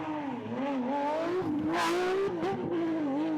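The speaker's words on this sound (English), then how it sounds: "And here's Patrick Snijers again with the Porsche." A Porsche rally car races along a gravel rally stage in the Belgian championship, its engine note loud and close, rising and falling with gear changes and a sharp rev flare midway, no voices over it.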